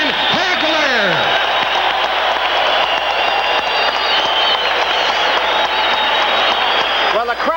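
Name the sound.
boxing crowd applauding the champion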